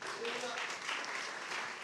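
Brief burst of clapping from a church congregation, a dense mid-level patter of hands with voices mingled in the room.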